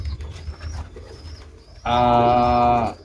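Pigeons kept in a coop coo once, loud and near: a single rounded, drawn-out coo after a few seconds of quiet background.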